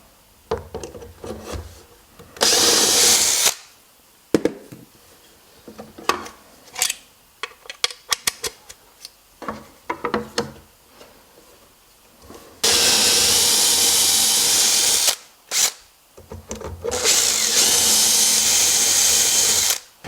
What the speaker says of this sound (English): now all I have to do is drill the rest of the holes and just keep on going down